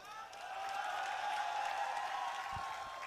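Audience applause at a Rahul Gandhi political speech, a dense, steady wash of many hands clapping from a large crowd, held evenly for about three seconds without a break.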